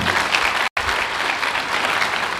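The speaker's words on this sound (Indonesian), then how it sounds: "Beri tepuk tangan yang meriah buat Tuhan." Steady applause from a large crowd, loud and continuous, with a brief cut partway through.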